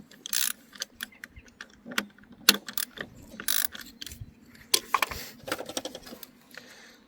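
Ratchet wrench loosening the crankshaft pulley bolts on a 2012 Seat Altea, heard as bursts of sharp clicking separated by short pauses, with metallic clatter and tool handling between the bursts.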